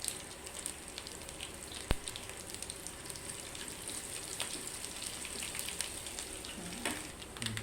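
Mustard seeds, cumin and dried red chillies tempering in hot oil for Telugu dal with eggplant, a continuous close crackling sizzle with scattered sharp pops and spits throughout, no voices.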